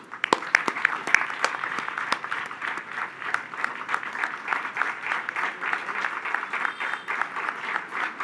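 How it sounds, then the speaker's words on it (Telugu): Sustained audience applause as Padmavati is honoured with a shawl at an event at Sivam, many hands clapping in a dense, even patter that carries steadily for several seconds, with a few sharper claps near the start. "క్లాప్స్."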